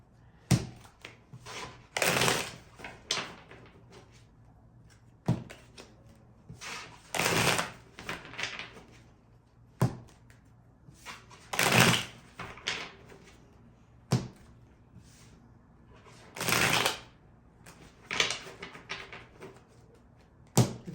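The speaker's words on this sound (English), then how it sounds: "it's very important to shuffle the deck" A deck of tarot cards is shuffled in repeated riffling bursts, each lasting a second or so, separated by quiet pauses and close to the listener.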